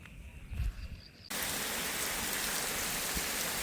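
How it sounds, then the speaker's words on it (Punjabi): Steady, dense monsoon rain pours down on farmland after a quieter start, a constant broadband hiss of drops on surfaces that suddenly swells and holds loud. "ਬੱਦਲ ਜੇ ਆਏ ਸੀ ਬਣੇ ਤੇ ਕਿਰੇ ਮੀਂਹ ਲੈ ਪਿਆ"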